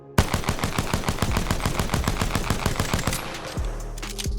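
Rapid automatic gunfire from a weapon in Apex Legends, a fast, even burst of loud shots for about three seconds, then a brief lull and further game sounds.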